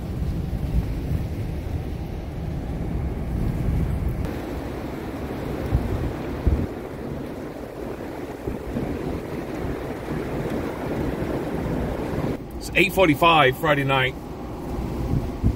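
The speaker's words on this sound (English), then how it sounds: "You can hear that wind right now." A 2022 blizzard brings a broad, roaring wind rush with gusty buffeting against the microphone. Someone speaks briefly over it near the end.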